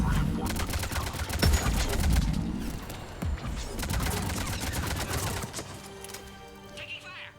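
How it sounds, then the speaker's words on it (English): Bursts of rapid automatic gunfire crackle through a Mass Effect 3 firefight, dense volleys with sharp impacts that thin out near the end, layered over rumbling combat ambience. "Taking fire."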